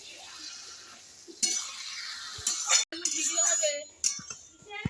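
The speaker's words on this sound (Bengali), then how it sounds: "এইবার আমি ভালো করে কচুর শাকটা যতক্ষণ না জলটা শুকিয়ে যাবে ততক্ষণ আমি নাড়বো।" A spatula scrapes and stirs taro leaves with fried shrimp and slit green chillies in a pan, with several clinks of metal against the pan and a soft sizzle beneath.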